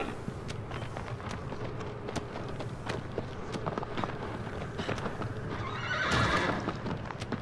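Horse galloping in the Shadow of the Colossus video game, with steady hoofbeats clip-clopping throughout and a loud neigh near the end.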